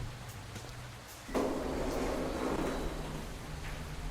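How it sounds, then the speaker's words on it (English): Heavy rain hisses steadily, heard from inside, swelling louder partway through with a dull low rumble underneath. "I don't know why we can hear the rain so loud inside this building."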